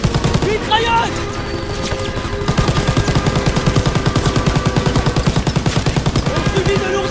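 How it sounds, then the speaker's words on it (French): Rapid machine gun fire in the World War II shooter Call of Duty WWII, a steady, loud stream of closely spaced shots running for several seconds alongside other battle noise, with shouted voices heard now and then. "Mitrailleuse!"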